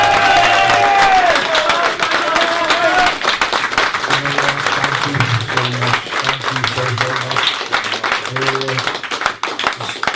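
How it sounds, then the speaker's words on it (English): A crowd applauds and cheers at a post-fight boxing press event after a WBC title win, loud and dense at first, while a voice speaks over the clapping for most of the stretch. "I think we should give him a huge round of applause"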